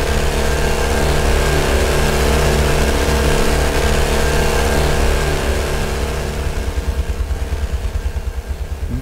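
A vehicle engine in the Halo video game, Halo Crafting Improved campaign, drones loudly and steadily under the player's driving, then eases and thins toward the end, alone without talk.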